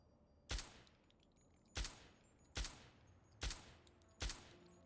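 Gunfire from the video game Fallout: Tale of Two Wastelands, five loud, sharp single shots spaced at roughly even intervals against a quiet background.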